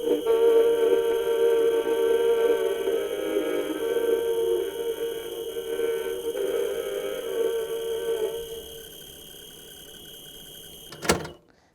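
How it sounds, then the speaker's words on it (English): A Granada VT-800 reel-to-reel tape deck mechanism whirs and hums noisily and steadily for several seconds, then winds down to quiet before a single sharp click. "the workings are still pretty noisy"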